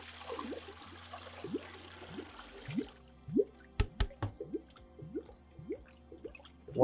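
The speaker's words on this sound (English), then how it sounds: "Once your product stops bubbling in the back" Liquid product gurgles and drips as it fills the back of a Taylor 341 machine, a series of wet bubbling plops and trickles, quiet and close, fading from a steadier flow into separate bursts.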